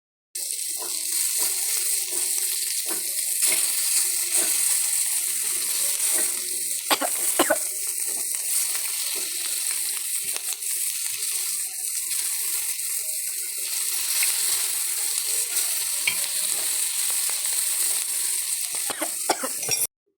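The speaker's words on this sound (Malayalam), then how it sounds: "ഞാൻ ഇപ്പുറത്ത് നിന്ന് മീൻ വറക്കുന്നുണ്ട് കേട്ടോ." Fish fries in a pan on a hostel room stove, a loud continuous hiss of sputtering oil with scattered crackles and pops that holds steady for the whole stretch.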